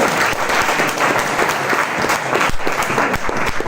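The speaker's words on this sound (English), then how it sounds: "round of applause" A crowd applauds at a Search London talk, a dense patter of many hands clapping steadily at moderate distance, with no speech.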